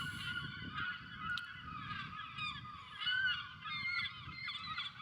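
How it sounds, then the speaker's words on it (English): Several geese honking repeatedly, with overlapping nasal calls in an uneven rhythm over a low outdoor rumble in a city, moderately close. "I think these birds hate me."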